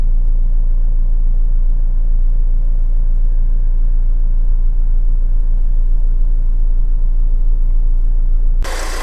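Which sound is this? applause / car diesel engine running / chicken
car diesel engine running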